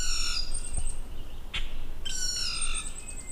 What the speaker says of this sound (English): The common grackle to me sounds like a squeaky screen door.